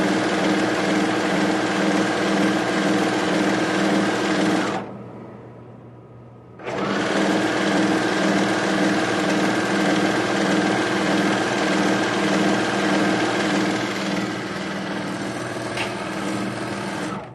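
A serger sewing machine runs steadily with a loud, even mechanical whir, stops briefly for about two seconds, then starts again and keeps stitching without a break.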